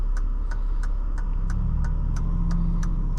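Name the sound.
1994 Mercedes-Benz E420 engine while driving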